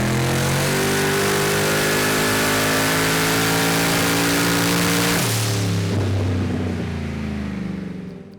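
A big black Hemi engine pulls hard on a dyno, a loud sustained full-throttle roar holding steady for about five seconds before the note drops and the engine winds down.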